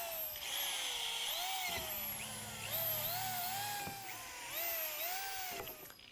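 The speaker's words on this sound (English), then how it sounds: "Use a 1/4 inch drill bit to make 5 evenly spaced pilot holes." Power drill fitted with a 1/4 inch bit drilling pilot holes through halfpipe coping into wood, a steady high whine with rising and falling pitch sweeps, close and continuous with no talk.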